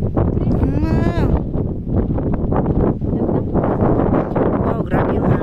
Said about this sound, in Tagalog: Wow, grabe yung hangin, oh.